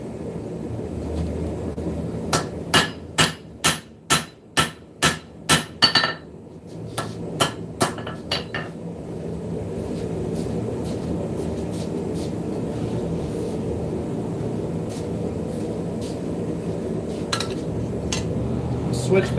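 Hammer blows forging a steel knife blade in a shop, a quick run of evenly spaced ringing strikes up close, then a few scattered blows against a steady background hum.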